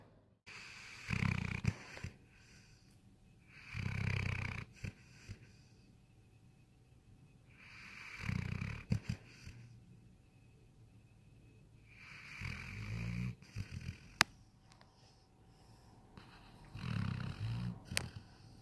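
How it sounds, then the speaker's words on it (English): A dog snores in slow, regular cycles, each rough, rumbling inhale swelling and fading, with quiet gaps between; close and fairly soft. "My dog snores."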